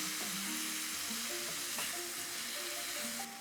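Food frying in a pan in the kitchen of a Thai restaurant, a loud, continuous, close sizzle with a steady hiss throughout, while soft tonal music plays underneath.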